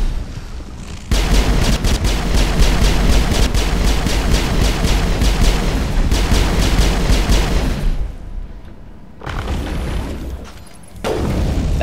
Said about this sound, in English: And this really nice thing called a pistol.